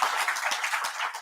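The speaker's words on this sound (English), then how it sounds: "A round of applause, I think that's worth." An audience at an international conference gives a brief burst of dense, steady applause, many hands clapping together in a room.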